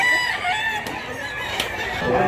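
Gamefowl rooster in Mantalungon, Cebu, crowing and clucking steadily up close, with a couple of sharp clicks and no speech.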